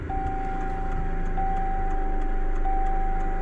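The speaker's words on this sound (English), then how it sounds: "that is the air compressor. Don't mind that noise." An air compressor drones in a garage near a Duramax truck, a steady low mechanical hum with a constant tone and faint periodic ticks, running alone without talk.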